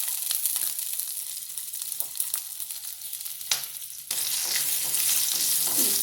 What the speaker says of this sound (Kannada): ಸ್ವಲ್ಪ ಹುರ್ಕೊಳ್ಳೋಣ ಅದನ್ನು.